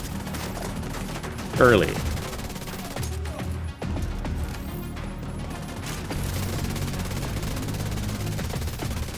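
Striker rifle gunfire in The Division 2, a steady run of rapid shots layered over continuous game effects, with a brief spoken word near the start.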